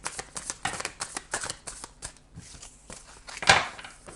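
Oracle cards shuffled by hand in a run of quick riffling bursts with a steady rhythm, close and clear, ending with a louder slap of the deck.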